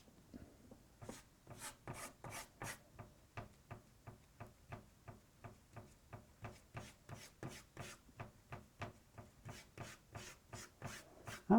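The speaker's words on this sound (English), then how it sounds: "I'm going to try to scrape most of that off, okay?" Something is scraped off outdoors in winter in a long run of evenly paced, rasping strokes, about thirty in all, close by and steady, with no one speaking.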